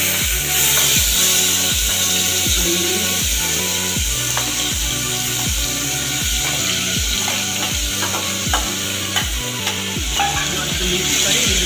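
A spoon stirs tomatoes and hing frying in a pan for ragda bhel, loud and close, with steady rhythmic scraping strokes about twice a second over a continuous bright sizzle.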